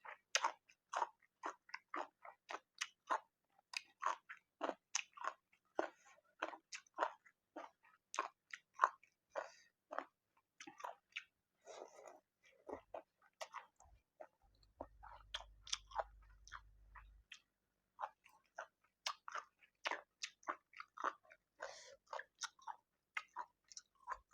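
Close, moist chewing and crunching of papaya salad and chicken curry with noodles, repeated in a steady rhythm of bites, alone with no talk.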